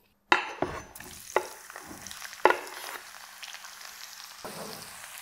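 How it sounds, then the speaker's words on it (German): Onions fry in plenty of oil or clarified butter, giving a steady close sizzle broken by several sharp stirring clatters and scrapes of the pan. "Die Zwiebeln wollen wir jetzt langsam schön braun frittieren."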